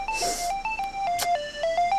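A mobile phone ringtone for an incoming call plays a bright, stepping electronic melody of repeated tones, loud and close, ringing continuously with no voices.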